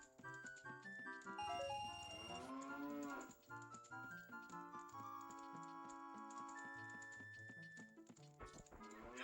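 A cow moos in the video game The Legend of Zelda: Ocarina of Time Master Quest, a few drawn-out lowing calls over continuous game music, with no talk.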